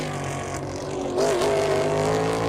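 A NASCAR race car in Cup Series qualifying roars past on track, its engine note rising sharply halfway through as it closes in, steady and loud throughout.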